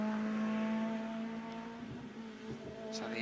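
A mid-1990s Integra race car pulls off the line at a hill climb, its engine holding a steady low drone that shifts as it moves away, heard from a distance and fairly faint.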